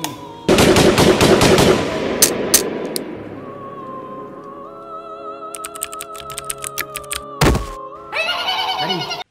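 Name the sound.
machine gun fire in a short film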